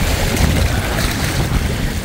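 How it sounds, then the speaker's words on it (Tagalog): Sea waves wash against the rocks along a seaside boulevard road in Masbate City, a steady, dense rush of surf with a constant low roar and some wind buffeting the microphone. "Yan po, hampas ng alon sa mga bato,"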